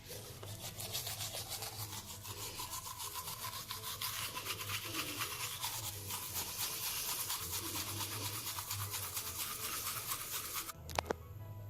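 Teeth are brushed with activated charcoal whitening powder, making a rapid, steady scrubbing rasp close up that continues for most of the clip before a brief knock near the end.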